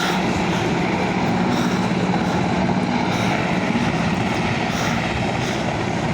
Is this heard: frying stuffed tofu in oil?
no